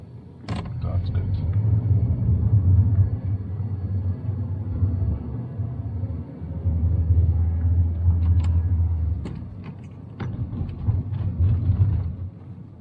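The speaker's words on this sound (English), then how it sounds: "You hear the car revving up" A manual-transmission car engine rumbles steadily from inside the vehicle, swelling and easing as it revs and accelerates, with a few faint clicks over the drone.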